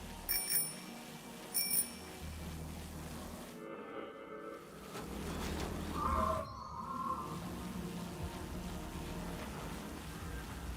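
Bell rung in the Generation Zero video game to lure robot enemies, two short bright rings near the start, followed by rumbling game ambience and a brief tonal chirp, with no talking.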